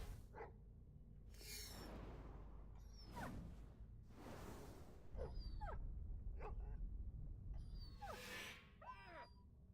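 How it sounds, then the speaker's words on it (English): Game dogs in RuneScape 3 bark and yelp in short bursts with whimpering, mixed with swooshing combat effects, fairly loud and close throughout. "accidentally dragged another doggy over here"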